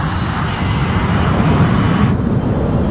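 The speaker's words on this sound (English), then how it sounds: "This is the Ocean Air Force transport plane Mother Goose 1." Transport plane Mother Goose 1 of the Ocean Air Force in the Ace Combat video game, a steady, loud, close roar of aircraft engines with a broad rushing hiss and no voices.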